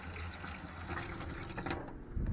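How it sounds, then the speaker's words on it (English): A camper's freshwater pump kicks on, a steady mechanical whir with a faint ratcheting buzz running throughout, fairly close, and a slight thump as it cycles near the end. "there, you hear the pump kick in?"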